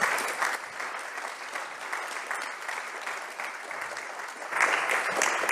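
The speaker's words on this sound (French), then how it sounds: "On peut les applaudir" An audience claps for the speakers at the close of a debate on experts in democracy, continuous dense applause that swells again near the end.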